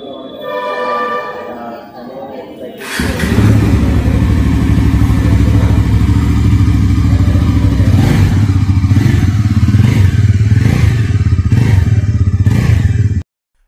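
A Bajaj NS400Z motorcycle's underbelly exhaust revs up loud and close, a throaty engine roar that holds steady after a few seconds of speech.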